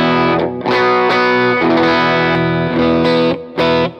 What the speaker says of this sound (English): Here is my Klon sound.